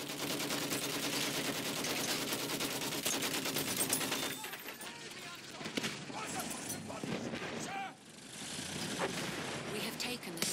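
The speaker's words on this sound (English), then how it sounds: "Machine gun, one of theirs!" Enemy machine gun fire crackles in Battlefield 1 during an Operations battle, sustained rapid bursts dominating the opening seconds before giving way to distant battle noise and a shouted voice.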